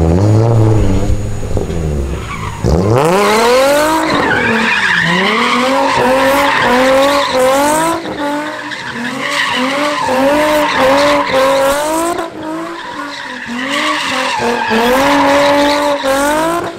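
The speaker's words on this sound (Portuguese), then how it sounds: "eu vou fazer um zerinho em volta dela" A car drifting in tight donut circles, tires screeching in long continuous wails with the engine revving hard beneath, loud and close for the whole stretch.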